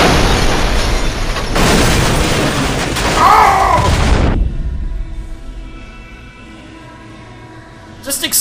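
A loud, close explosion in Far Cry 4 booms over dense combat noise, then fades into a long, quieter tail with a faint later pop.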